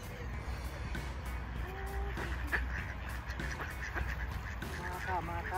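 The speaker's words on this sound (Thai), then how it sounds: "มาเลี้ยงอาหารเป็ดด้วยกันนะคะเป็ดป่า" Wild ducks quack repeatedly in a park while being fed bread, with several scattered calls over a steady background hum and occasional faint voices.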